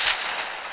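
A sharp burst of Kalashnikov assault rifle fire in a video game, loud and crackling, fading into a sustained rumbling echo in under a second.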